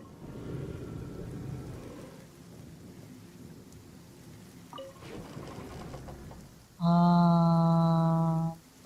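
Rumbling thunder and rain from a storm in the Honkai Star Rail video game, a low rolling roar at first fading to patter, followed near the end by a loud sustained musical game tone.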